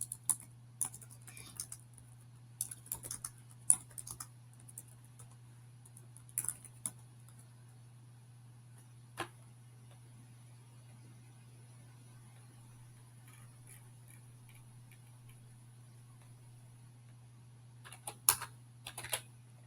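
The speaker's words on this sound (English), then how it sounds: "I'm going to type that in right now." A computer keyboard clatters as an address is typed in, with bursts of quick keystrokes early and late around a long near-quiet stretch, over a steady low electrical hum.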